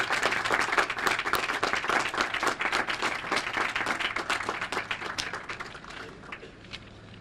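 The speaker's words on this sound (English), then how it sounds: "I think that's worthy of a round of applause" Audience applause at a Niagara Falls announcement of a Main Street real estate deal, a burst of individual hand claps from a modest crowd, strong at first and thinning out toward the end.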